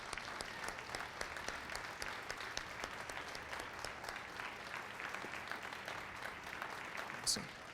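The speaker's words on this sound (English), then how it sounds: "Let's give these folks a round of applause." An audience at a business competition gives a round of applause for standing finalists, steady continuous clapping from many hands, fairly distant and even, with a brief louder burst near the end.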